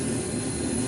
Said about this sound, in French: L'avion a décollé pour Cap-Vert.